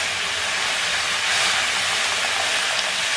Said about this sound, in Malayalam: തിളക്കുന്ന വെള്ളം